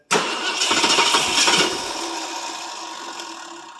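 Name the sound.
cold start of a 1967 Ford LTD 390FE engine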